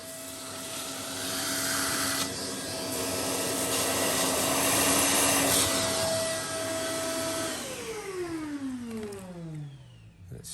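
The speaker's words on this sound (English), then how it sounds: "Again, hoover it off." Vacuum cleaner sucking debris out of a drilled hole for a ground anchor install, a loud steady whine that swells and holds, then winds down with a falling pitch as the motor is switched off near the end.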